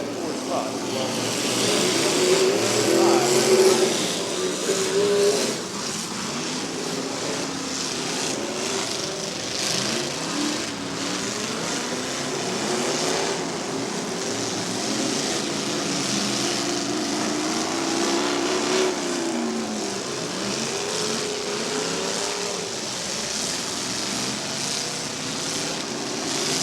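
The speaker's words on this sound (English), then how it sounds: "A little more cylinders out here, a little bit more growl to the engines as they take off." Several V8 demolition derby car engines rev and growl steadily at a county fair derby, a dense continuous roar with crowd and announcer noise mixed in throughout.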